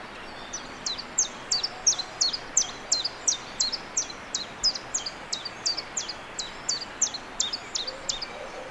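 A chiffchaff sings in the open at Monkstown, its even, repeated chiff-chaff notes falling in a regular rhythm of about two to three per second throughout, moderately close above faint background hiss.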